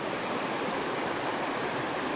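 Gragg Prong Falls in Pisgah National Forest, North Carolina, pours through a narrow gorge, making a steady, dense roar of rushing water that stays even and unbroken throughout.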